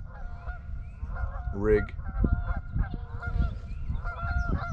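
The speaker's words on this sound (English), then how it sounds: "These geese though, huh? Oh, there's just two of them, huh? Honking at each other." Two Canada geese honk back and forth outdoors near the water during a bass fishing outing, the calls loud and close in short repeated bursts over steady wind and background noise, with someone speaking briefly.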